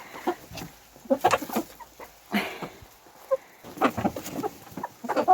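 Farm chickens cluck and squawk in bursts after being given grain, close and fairly loud, with irregular overlapping calls and short pauses between them.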